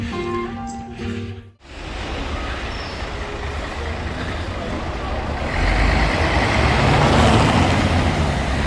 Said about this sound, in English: a lot of traffic on the street